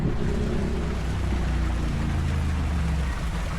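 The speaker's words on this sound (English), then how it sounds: "there's a bit of a waterfall here as well." A small waterfall in central London gives a steady, fairly loud rush of splashing water that runs without a break. A low rumble sits under it and no one speaks.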